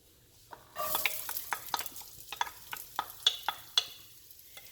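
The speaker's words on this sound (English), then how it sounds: "Now I'm going to saute 1 medium onion that I have diced" Diced medium onion sautés in a small splash of oil in a pan, with a soft sizzle under a steady run of sharp spatula scrapes and taps that come every half second or so, close and moderately loud.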